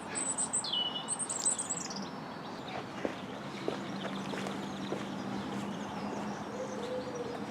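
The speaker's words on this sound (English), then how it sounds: "The trill of birdsong in the churchyard" Birds trill and chirp in a churchyard in Bridgnorth, beside Thomas Telford's church. The high, bright calls are clearest at the start and come through lightly over steady outdoor background noise.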